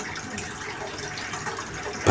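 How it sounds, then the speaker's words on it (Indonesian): Water flows from a garden hose into a tub beside a bird cage, a steady gushing wash of sound, close by, that ends in a brief louder splash. "tinggal dialirkan dari selang ini langsung masuk"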